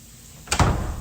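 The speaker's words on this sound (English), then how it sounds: "She slams the door as she re-enters the living room." A house door slams shut as a woman comes back into a living room. After a quiet moment there is one sharp, loud impact, followed by a short rumbling decay.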